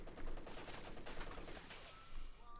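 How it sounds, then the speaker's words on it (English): Rapid gunfire from a machine gun in Company of Heroes 2, an OKW versus USF match, forms a dense, continuous crackling volley across the whole span with a slight swell near the end. "MG for opening up there."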